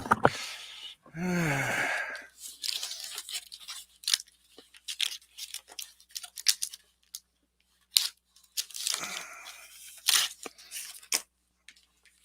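Packing tape ripped off a Japanese-import half-speed remaster vinyl record package during unboxing: one loud tearing burst, then scattered rustles, handling clicks and quiet breaths.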